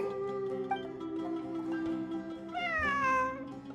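A cat in Genshin Impact meows in a long, drawn-out wail that rises at the end. It sounds close and clear over a soft game music backdrop.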